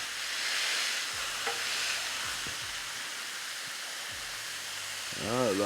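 Smashburger patties sizzle on a Ninja Sizzle griddle, a steady broadband frying hiss throughout with a few scrapes of a spatula or press, and a voice briefly speaking near the end.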